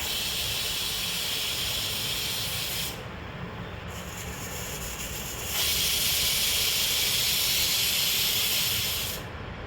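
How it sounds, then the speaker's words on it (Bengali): A pressure cooker steaming paneer in a tiffin box over a little water gives off a steady, close hiss of escaping steam, swelling louder partway through and continuing without pause, with no one talking. "প্রেশার কুকারে অল্প জল দিয়েছি এখন এই টিফিন বক্সের কৌটোটা বসিয়ে দিলাম আর দুটো সিটি দিয়ে নেব"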